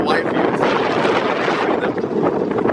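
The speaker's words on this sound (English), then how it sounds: "I know it's getting kind of windy, so I'm guessing my voice is beginning to get distorted" Strong wind on an open ferry deck buffets the microphone, producing a loud, continuous, distorted roar that fills the whole stretch without letting up.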